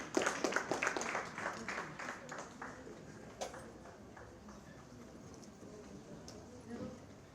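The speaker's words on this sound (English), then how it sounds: "Let's welcome them with a round of applause." Audience at a SADTU merit awards ceremony claps in welcome for arriving guests, a dense burst of applause that fades over several seconds into a quieter murmuring hall with occasional scattered claps.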